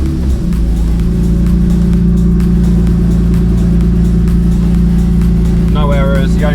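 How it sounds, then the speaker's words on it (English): A Toyota Supra mk4 engine cranks and fires almost at once, then settles into a loud, steady idle rumble close by, and a voice starts talking briefly near the end. "So now I'm just going to start the car, make sure all the lights cycle and go off like they should do."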